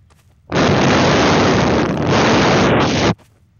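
A taunt sound in the Garry's Mod Prop Hunt video game: a loud, sustained burst of harsh rushing noise lasting about two and a half seconds, starting and stopping abruptly.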